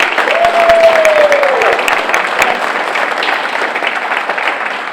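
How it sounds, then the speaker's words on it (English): Loud, continuous applause from a crowd at a school board meeting, honoring a high school winter guard, with a brief tonal sound near the start. "Let's give the Winter Guard a great round of applause this evening."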